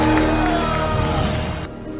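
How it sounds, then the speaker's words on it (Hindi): A large crowd at an evangelical miracle crusade cheering and shouting, a loud dense roar that holds steady and eases slightly toward the end. "I want you to give the Lord another big shout."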